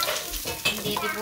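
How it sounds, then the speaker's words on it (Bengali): Lentils and rice tipped into a hot pot hiss and sizzle up close, with a brief stirring scrape during a short burst of cooking noise. "ডাল দিয়ে দিচ্ছি, চাল দিয়ে দিচ্ছি"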